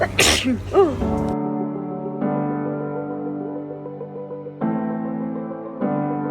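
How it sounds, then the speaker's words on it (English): One sharp sneeze bursts out at the start, followed by steady background music. "I'm gonna sneeze."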